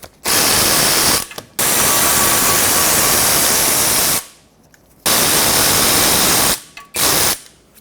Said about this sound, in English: Remove the two 17mm caliper bolts.